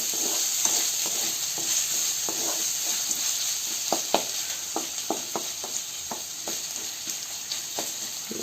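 North Karnataka style chitranna ingredients fry in a pan over a low flame: a steady close sizzle, with a spoon stirring and scraping in irregular taps throughout.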